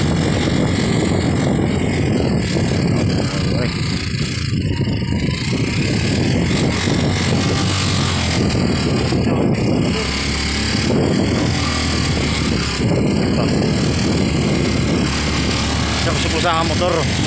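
Motorcycle engine running steadily while riding a rough, difficult rural dirt road in Mahayhay, Baybay, Leyte, a continuous loud drone with rattles, partly under talk.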